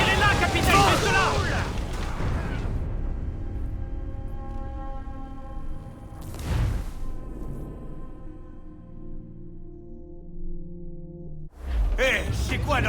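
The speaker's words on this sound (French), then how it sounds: "Ils font feu, capitaine!" Ship cannons fire in a naval battle in Assassin's Creed IV Black Flag, heavy booming blasts with long rumbling tails, a couple of shots spaced several seconds apart amid game music and voices.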